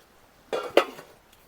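A metal lid is lifted off a cooking pot of traditional pork and passion fruit gravy, giving two quick, close clanks in a quiet kitchen with a short ring afterward.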